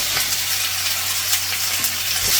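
Sliced onion with crushed ginger and garlic sautéing in oil for a Kerala-style prawn roast. A close, steady hissing sizzle is broken by a few light clinks and stirring touches, over a low background hum.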